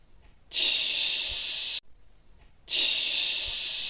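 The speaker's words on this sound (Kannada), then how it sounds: "ಇವಾಗ ಕುಕ್ಕರ್ ಕ್ಯಾಪ್ನ ಮುಚ್ಚಿ ಎರಡು ವಿಜಿಲ್ ಕೂಗಿಸ್ಕೊಳ್ಳೋಣ ಇದನ್ನು" A pressure cooker cooking vegetable pulao lets off two loud hissing bursts of steam, each lasting over a second, separated by a short quiet gap.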